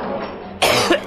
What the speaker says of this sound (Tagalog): may plema ang ubo mo